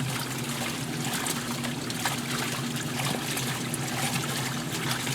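Water sprays and trickles steadily inside a Maytag washing machine during a spray rinse, a continuous close hiss with a low motor hum underneath and no voices.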